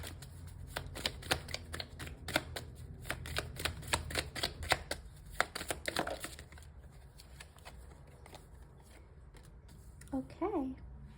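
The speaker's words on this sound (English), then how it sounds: "I'm just gonna get a few cards over here" Tarot cards shuffle in rapid close riffling bursts for several seconds, then fade to quiet handling, with a brief voice near the end.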